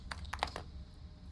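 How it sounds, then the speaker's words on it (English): A computer keyboard is typed on quickly while playing a video game: a brisk burst of about five crisp, close keystrokes, then quiet, with no voices. "I'm so glad that I do type as quickly as I do"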